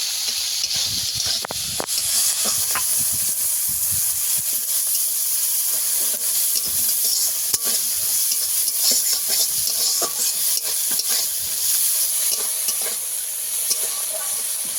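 Rohu fish fries in hot oil with a continuous bright sizzle and hiss, broken by faint stirring clatter, and no voices are heard.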